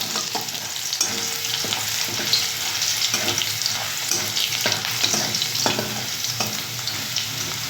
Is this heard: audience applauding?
no